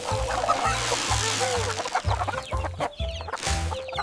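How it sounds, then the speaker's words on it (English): Chickens on a farm cluck busily at feeding time, with short overlapping clucks and calls close by, and no one speaking. "Eat up, little chickens."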